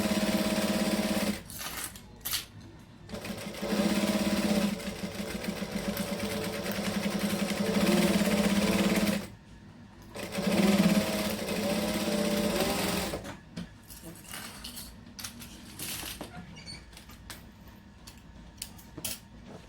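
Domestic sewing machine stitching a camera bag seam at a 2.5 stitch length, a rapid steady whirring hum in long runs broken by short pauses, close and fairly loud.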